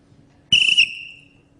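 A lecturer whistles a single piercing high tone in a lecture hall, loud and close, held steady for about a third of a second before fading out.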